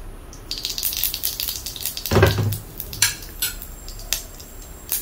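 Mustard seeds crackle, pop and sizzle in hot oil, scattered sharp bursts over a steady frying hiss, with a soft clink of metal.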